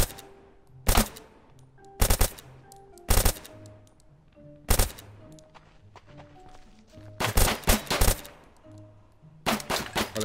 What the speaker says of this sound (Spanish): ¿Cómo disparan, no? Los desgraciados.